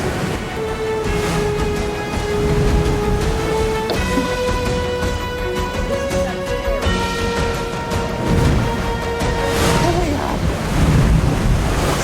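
Moving water and waves in lush New Zealand scenery wash steadily in the background, with wind noise and sustained musical tones layered over the constant rush.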